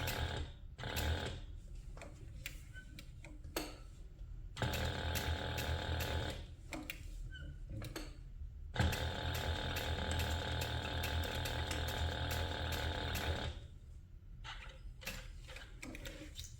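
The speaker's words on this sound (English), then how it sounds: "So I'm just going to sew this on" Sewing machine stitching a handbag, running in several bursts of rapid mechanical clatter separated by short pauses, close and alone.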